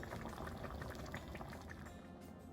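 Broth for chiles rellenos simmers in a pot, a dense continuous bubbling burble held at a steady level for a couple of seconds with no talk over it.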